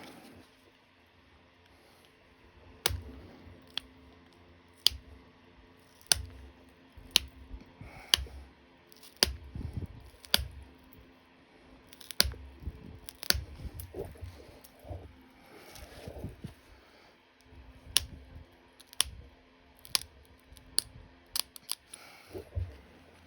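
Copper tools pressure-flake a red glass arrowhead, sharp isolated snapping clicks at irregular intervals of a second or two over faint scraping and handling noise, close and alone without speech.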